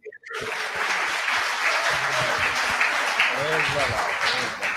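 A church congregation applauds, loud continuous clapping from a crowd that starts sharply and holds steady for several seconds, with voices mixed in.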